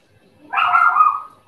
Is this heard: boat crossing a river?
no